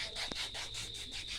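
Someone scrubbing their own foot, soft rhythmic close rubbing strokes repeating about every tenth of a second over a brief quiet stretch with no talk.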